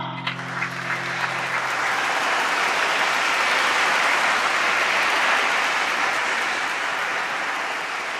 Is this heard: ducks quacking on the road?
no